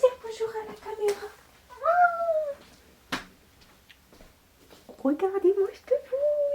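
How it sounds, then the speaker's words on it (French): A pet cat meows several times indoors at close range, with rising and falling cries near the start, middle and end, while a person speaks to it in between. "Donc en tout cas, regardez mon chat."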